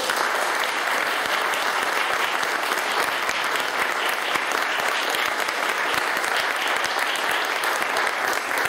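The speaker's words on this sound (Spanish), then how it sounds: "Le voy a pedir un fuerte aplauso." Strong, steady applause from an audience at a talk on women in the Scriptures given by an archbishop, dense and continuous throughout with no gaps.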